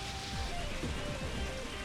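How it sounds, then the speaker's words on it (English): Steady, soft rain hiss from the Pokemon XD: Gale of Darkness video game, a continuous even patter heard faintly throughout. "Like that rain sound."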